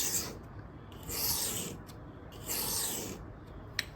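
A knife blade strokes back and forth across a Bhumi diamond sharpening stone, three close, even rasping passes with brief quiet gaps between them, ending in a small tap.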